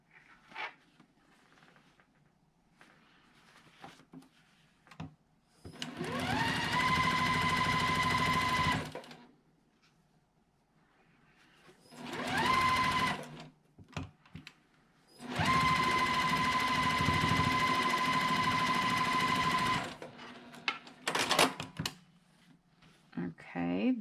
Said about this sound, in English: let's sew these two together